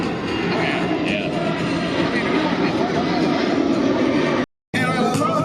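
A big, chunky airplane flies at the Miramar airshow. Its engines make a loud, steady roar that stays strong throughout and briefly drops out near the end.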